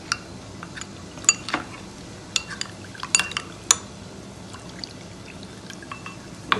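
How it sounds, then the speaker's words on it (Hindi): A utensil stirs a water chestnut (singhara) flour mixture in a bowl to dissolve it without lumps, giving scattered light clinks and scrapes against the vessel, close and fairly quiet, with no voices. "इसे घोल के इसे अच्छी तरह से घोल देंगे, इसका लंप नहीं होना चाहिए।"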